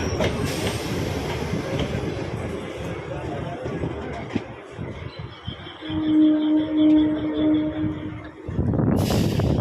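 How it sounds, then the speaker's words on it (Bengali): A passing local EMU train rumbles and clatters nearby, with a steady metallic wheel squeal rising near the end before a loud burst of noise. "আর ট্রেন ডান দিকে ঘুরে গেছে"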